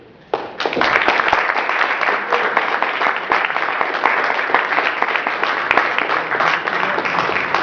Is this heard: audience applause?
yes